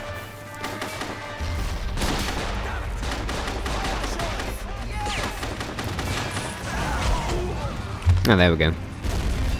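Gunfire and mortar explosions in the wartime strategy game Men of War, with continuous crackling shots and booms close by, and someone speaking briefly over the battle.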